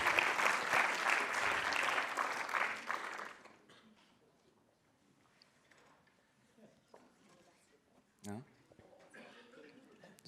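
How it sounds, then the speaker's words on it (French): A business pitch audience applauds in a dense burst of clapping for about three seconds, then it fades into quiet room noise with faint movement and a brief thump. "Super, on peut l'applaudir."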